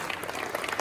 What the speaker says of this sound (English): Let's give Spike one more big round of applause.